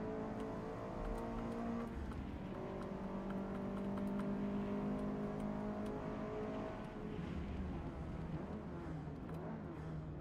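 Racing car engines in the Forza Motorsport video game roar continuously, several motors droning and shifting pitch as they accelerate together, loud and close throughout with no pauses.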